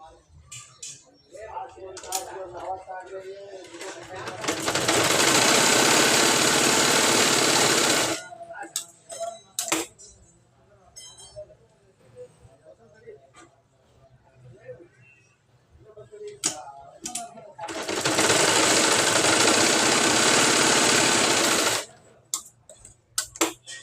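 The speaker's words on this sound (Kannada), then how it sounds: "ನೆಕ್ಸ್ಟ್ ಈ ಟಕ್ಸ್ ಪಾಯಿಂಟ್ನ ಈ ರೀತಿ ಸ್ಟಿಚ್ ಮಾಡಿರಿ" A sewing machine stitches tucks on a blouse in two loud, steady whirring runs of about four seconds each. A voice talks quietly in the pauses between them.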